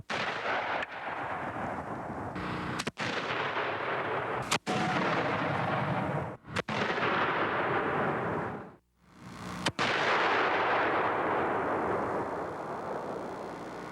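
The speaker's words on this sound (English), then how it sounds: "The proof firing was done with an electrical charge from a bunker and recorded with a remote camera" Proof firing of a replica cannon loaded with sand and set off electrically from a bunker, heard as several loud, abrupt booms separated by seconds, each followed by a long rumbling wash, with no talk.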